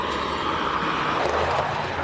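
A race car engine at the Simola 2024 event drones steadily and sounds rough and unhealthy as it misfires, a continuous mechanical roar heard at moderate distance with no voices.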